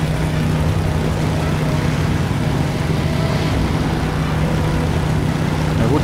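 Car engine in the video game Beyond: Two Souls holding a sustained low roar as the vehicle speeds up, steady and loud throughout with a slight rise near the end, no voices.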